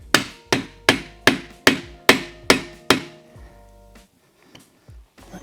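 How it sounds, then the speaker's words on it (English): A motorcycle triple clamp is fitted back onto an Aermacchi 350 race bike. Eight evenly spaced, ringing hammer blows land in a quick rhythm, followed by a pause and a few faint clinks. "now the triple clamp goes back on"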